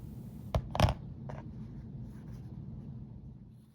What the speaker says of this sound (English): Cut the tip of the zipper off and blunt the end.